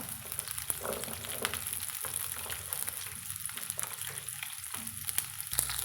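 Small native onions, a handful of shallots, fry in hot oil in a pan, giving a steady close crackling sizzle that runs without a break and with no talk over it.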